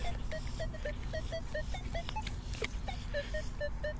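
Metal detector signal tones, a quick series of short, regular beeps repeating over steady low background hum, fairly faint.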